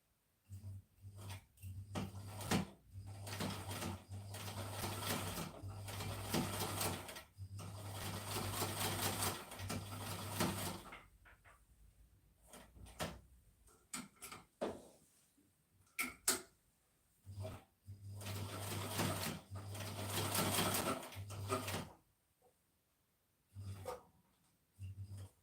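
A sewing machine runs in bursts through denim, driven by a responsive foot pedal, with steady mechanical whirring and short pauses between stitching runs; no talking.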